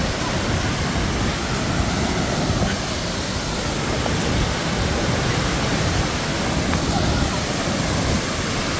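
Jung Waterfall in Arunachal Pradesh, near Tawang, sends up a loud, unbroken roar of rushing, crashing water, dense and close with no pauses.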